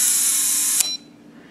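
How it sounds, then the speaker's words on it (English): A loud, high electronic beep holds steadily, then a brief click and a short higher tone before it cuts off into quiet. "And we had a confirmation beep"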